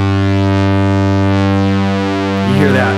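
Korg Volca Bass analog synth with one oscillator detuned a couple of cents, producing a loud, buzzy sustained bass tone that thickens with slow beating and shifts in brightness near the end.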